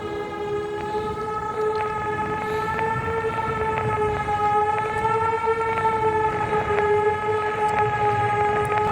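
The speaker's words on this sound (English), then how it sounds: "Okay, it does seem to be a weird tsunami siren?" A weird tsunami siren in a horror video game wails with a sustained, harmonic-rich tone that wavers slightly in pitch, loud and continuous over a low rumbling bed, with no talking.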